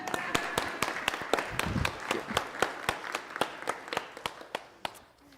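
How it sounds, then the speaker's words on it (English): A church congregation applauding during a Sunday service, a run of sharp, fairly regular claps from a few people that gradually thins out, with faint voices underneath. "Can I get a round of applause,"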